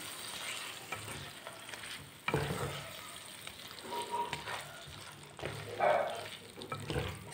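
Cardamom and cinnamon stirred into a frying duck curry, a steady sizzle with scraping stirs and a few louder clatters, close by and without talk.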